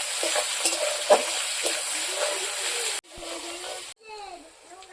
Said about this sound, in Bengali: তারপর দিয়ে দিব পেঁয়াজ কুচি। ভালোভাবে ভেজে নেব।